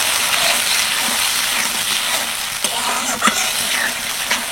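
Capsicum being stirred with a sauce mixture in a frying pan, a steady sizzle with a few scraping clicks from the spoon, close and continuous with no talking.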